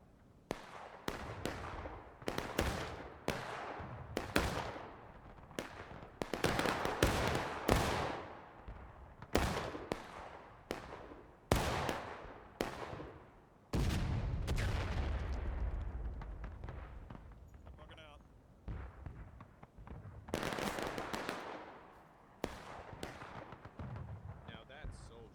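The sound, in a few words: musket gunfire from the video game War of Rights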